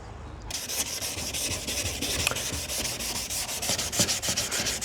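Wet sanding of a hazy car headlight lens with 2000 grit sandpaper, a steady close rhythmic rasping scrub of repeated strokes continuing throughout with no talk.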